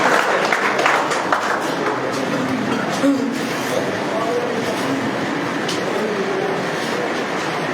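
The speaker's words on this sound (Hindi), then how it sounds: "रणवीर सिंह राणा जी, जोरदार ताली से स्वागत करें।" Loud, dense, continuous clapping from a large crowd welcoming a speaker at a village election rally, a steady wash of applause throughout.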